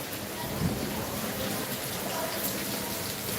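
Heavy rain pours in Belgachhi, Chuadanga, a loud, steady, close wash of rain on surfaces with a faint low rumble, continuous across the whole stretch without voices.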